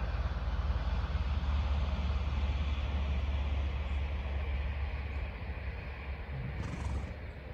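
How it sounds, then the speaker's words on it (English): A train passes in the background as a steady, distant low rumble lasting several seconds, gradually easing slightly in level, with no speech over it. "And there goes the train in the background."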